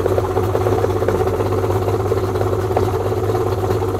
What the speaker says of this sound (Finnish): tässä on ne kaasarit jo, missä on se korotettu kierrosluku hetken aikaa, 1200